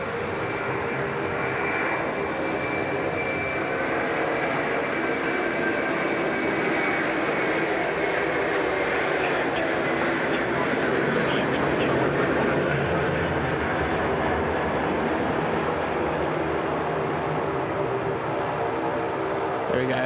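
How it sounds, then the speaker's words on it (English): An Airbus A330 jet departs Sydney Airport, its engines roaring in a loud, steady, broadband rush that holds evenly throughout. "Geez, they look good, the 330s when they're departing."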